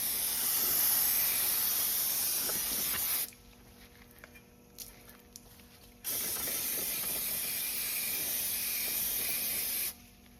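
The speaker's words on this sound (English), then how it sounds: "we just used a little roll-lock cookie on an angle grinder, and it was 40 grit" Angle grinder with a 40 grit roll-lock disc grinding rust on a Lexus RX350 rear hub, a harsh steady hissing rasp in two long bursts separated by a short pause.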